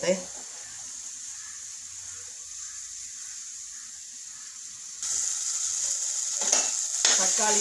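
Tomato and onion sautéing in a pan for a Kerala crab curry, a steady soft sizzle running throughout, growing slightly louder near the end with brief clinks of stirring.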